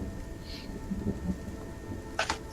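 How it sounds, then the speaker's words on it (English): Distant thunder rumbles low and faint beneath a soft wash of rain, with a short crackling burst near the end; no voices. "You both hear distant thunder."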